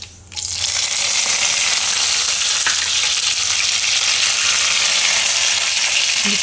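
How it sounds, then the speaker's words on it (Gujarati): Curry leaves dropped into hot oil with mustard seeds for a Gujarati tempering burst into a loud, steady sizzle that starts abruptly and keeps crackling evenly, close up, with no talk. "તો હવે આપણે એમાં નાખીશું લીમડો."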